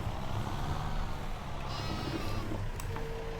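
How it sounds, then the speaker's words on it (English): A flock of sheep in a survival roleplay video game bleats repeatedly over a steady ambient hum, several overlapping calls close by. "If I can just get through this crowd of sheep."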